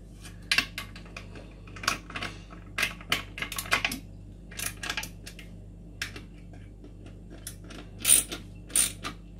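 A ratchet tightens the cylinder head gasket bolts on a Vauxhall Astra Z16XEP engine, with irregular bursts of rapid clicking and pauses between bolts, close and fairly crisp in a quiet workshop.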